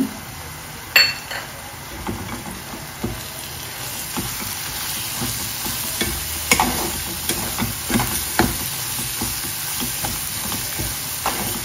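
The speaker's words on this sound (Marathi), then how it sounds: "आता 1 मिनिट आपण हे परतून घेऊया।" Squid masala spices with coriander and black pepper sauté in a hot pan with a constant loud sizzle, as a spatula scrapes and clinks against the pan in an irregular stirring rhythm.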